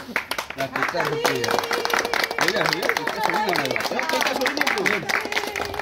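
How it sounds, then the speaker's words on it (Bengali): At a birthday cake cutting, a small group claps in a quick, lively patter close by, mixed with people chattering and calling out over it. "হাততালি"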